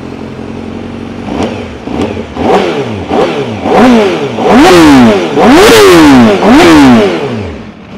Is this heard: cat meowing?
no